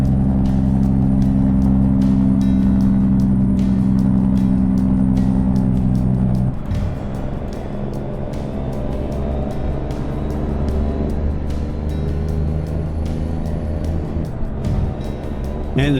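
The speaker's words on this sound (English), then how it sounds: "the truck I'm driving is the T4 or T. I think it's a T4, Scania T4" A Scania T4 truck in Euro Truck Simulator 2 rumbles with a loud, low diesel drone that drops in pitch partway through as the engine eases off, then keeps a steady road hum.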